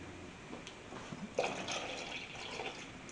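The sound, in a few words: pouring water into a pot of whole tomatoes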